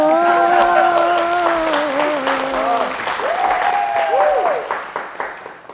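Audience applause at a stand-up comedy show, steady clapping from a crowd under a singing or sustained melodic voice for the first few seconds, then fading out toward the end.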